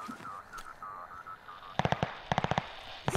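Rockets fire in a video game battle as quick bursts of sharp popping blasts in clusters, loud and close, following a stretch of tonal game sound and low background noise.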